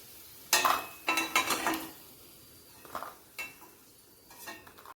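Golden fried potatoes lifted from hot oil in a frying pan with a metal spoon, giving several sharp clinks and scrapes against the pan, spaced out irregularly over a faint background sizzle.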